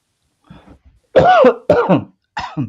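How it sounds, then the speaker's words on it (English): Several short coughs and throat-clearing bursts during a church service, close and fairly loud, in quick uneven succession, with a brief pause between groups. "You can't help coughing,"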